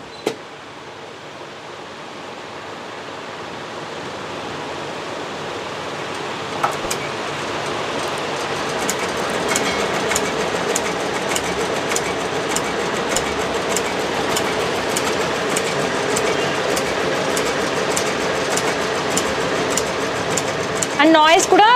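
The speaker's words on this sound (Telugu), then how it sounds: "ఎంబ్రాయిడరీ వర్క్, జెరీ వర్క్, అలాగే సింగిల్ బీడ్స్, డబల్ బీడ్స్ కూడా వర్క్ చేస్తుంది ఈ మిషన్" An M Japan embroidery machine stitches zari work and single and double beads, a steady fast mechanical clatter that runs loud and continuous with rapid needle ticks throughout.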